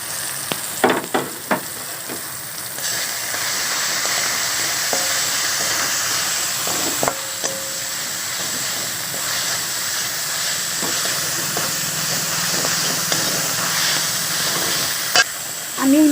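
Ginger paste, turmeric, chili powder and salt sizzling and frying with potatoes in a pan, a steady close hiss with occasional stirring clinks, no voices.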